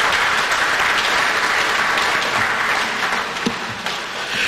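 An audience gives loud, dense applause in a large hall in response to an idea proposed at a summit on African culture, continuing steadily throughout.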